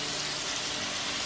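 Large beef burger patties sizzle in a pan of olive oil and butter, a dense, even crackling hiss that stays steady and fairly close for the whole short stretch, with no voices.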